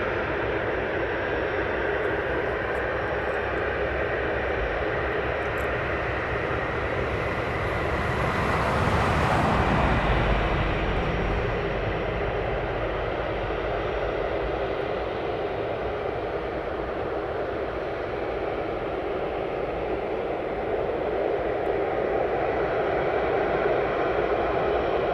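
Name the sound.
FedEx Boeing 757 aircraft landing at East Midlands Airport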